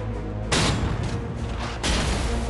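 Anti-tank cannon firing a shell at a German Tiger tank near a village, two loud broadband blasts about a second apart with dense rumbling noise between them and no talk.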